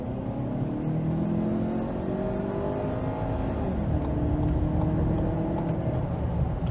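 A 2022 Lincoln Nautilus Reserve II luxury SUV accelerating in sport mode, its engine note rising steadily through the gears as a continuous, moderately loud hum and whir from inside the cabin, with no talking.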